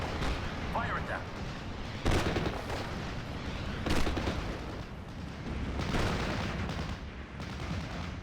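Steady gunfire and artillery booms from the World War II strategy game Steel Division: Normandy 44, with repeated heavy blasts and rattling shots over a continuous battle rumble, fairly loud throughout, with a voice speaking at times.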